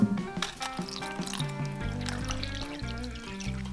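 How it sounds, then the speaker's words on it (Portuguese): Five gelatin sheets go into cold water with a faint, close trickle and a few small drips, set against a soft tonal background. "Começamos por cortar as 5 folhas de gelatina e demolhar em água fria"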